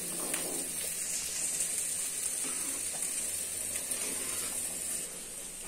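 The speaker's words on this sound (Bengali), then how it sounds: "এই যে খাসির চরব দিয়ে বুটের ডাউল রান্না হচ্ছে" Chickpea dal simmering in goat fat in a pot, a soft continuous sizzle and bubbling crackle held at a low, even level, with no one speaking over it.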